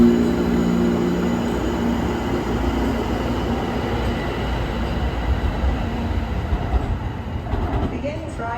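Pittsburgh light rail trolley running along the tracks, a steady rumbling roar of wheels and motor heard from on board, continuous and fairly loud with faint squeals toward the end.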